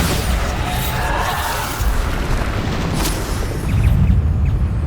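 Bombarda spell blasts in Hogwarts Legacy land as loud, booming explosions with crackling debris over a dense rumbling game soundscape, one swelling toward the end.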